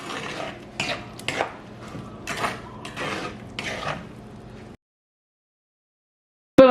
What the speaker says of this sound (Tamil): இப்போ இதை நல்லா மிக்ஸ் பண்ணி விடுங்க.